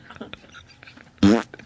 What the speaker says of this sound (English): Wait, now the dogs are farting?